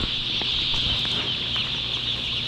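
Newly hatched broiler chicks only hours old in a barn set up for 30,000 birds, a dense continuous chorus of high peeping from many chicks at once, steady and loud with no talk.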